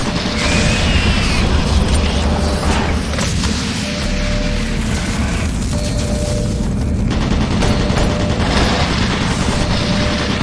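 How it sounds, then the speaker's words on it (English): Automated turret guns firing in the sci-fi shooter Doom 3, a dense, continuous loud barrage of rapid shots and booms with no breaks. "Warning. Automated turret guns online."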